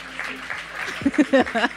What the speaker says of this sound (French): Laisse-les applaudir, ça leur fera du bien.